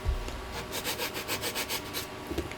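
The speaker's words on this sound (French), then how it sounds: "un petit peu de ponçage pour que ça soit propre" Wood is hand-sanded for a large mounting square, a rapid series of about ten rhythmic rubbing strokes heard close up after a brief knock.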